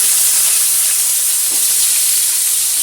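Potatoes frying in mustard oil with black cumin in a pan used for frying fish, giving a steady, close broadband sizzle that holds evenly throughout with no talking.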